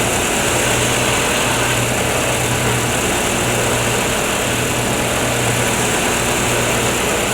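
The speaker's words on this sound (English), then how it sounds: "You see, these are all planing cuts," A wood lathe spins a pen blank under light planing cuts, producing a loud, steady motor drone with a constant hiss of cutting that runs unbroken and without speech.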